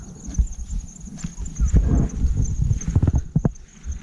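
A frightened bull shifts about on open village grazing ground in the Konkan, its hooves thudding in irregular close steps with a cluster of sharper knocks near the end, amid outdoor background noise.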